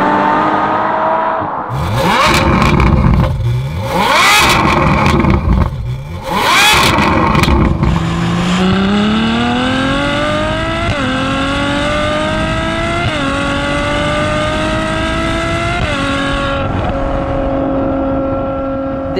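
A Ferrari F12 Berlinetta's naturally aspirated 6.3-litre V12 revs hard on the move, first with sharp throttle blips, then climbing steadily through several gears in one long, loud, close wail, with no talking.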